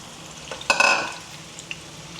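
Round-cut bitter gourd slices frying in hot oil, a low steady sizzle with one brief burst of louder spattering and stirring clatter near the start, close and without talking.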